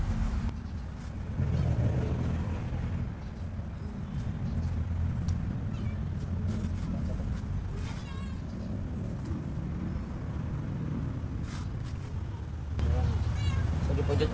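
Stray cats meow now and then over a steady low engine rumble, with people talking nearby at a school.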